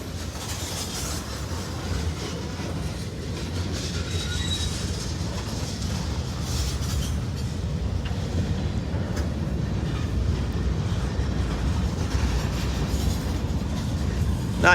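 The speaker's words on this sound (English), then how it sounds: "This train kind of snuck up on us." A freight train rolls past in Indiana or western Kentucky, a steady, loud rumble of railcars with clattering wheels and faint high squeals, continuous and close throughout.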